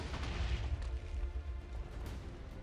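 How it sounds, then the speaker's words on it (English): Minecraft mod battle with thrown clumps of energy exploding in bursts of effects, heard as a dense, continuous low rumble of booms and blasts that overlap without pause, with no talk. "He throws clumps of energy that explode with beautiful effects."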